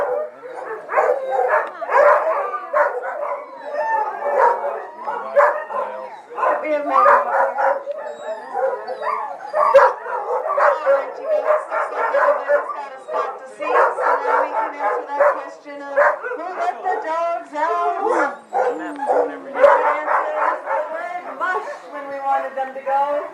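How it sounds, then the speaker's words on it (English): Trained sled racing dogs in Skagway, Alaska bark, yip, howl and whimper continuously and loudly at close range, an overlapping chorus with no pause throughout. "on like the racing dogs, and they're very trained, very well trained dogs"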